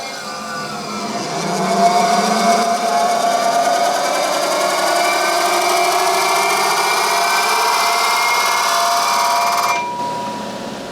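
A steady mechanical whirring with rising harmonic tones as a 1960 on-the-car wheel balancer spins up a car tire, holds a constant hum for several seconds, then cuts off near the end.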